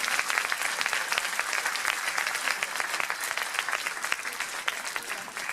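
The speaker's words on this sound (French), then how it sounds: "j'aimerais bien qu'on les applaudisse encore une fois" A hall audience at a dojo gala claps steadily for several seconds. The dense, even applause stays at a constant level throughout.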